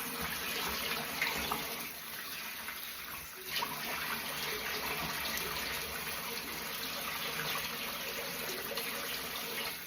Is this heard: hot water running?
yes